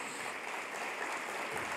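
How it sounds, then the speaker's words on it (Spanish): An audience applauds at a Spanish-language church gathering, a steady wash of clapping that holds evenly throughout without a break. "Vamos a dar un aplauso también."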